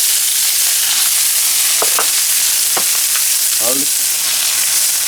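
Onion sizzles steadily in a hot pan at the start of a red wine sauce, a loud, continuous frying hiss with a few brief clinks of stirring.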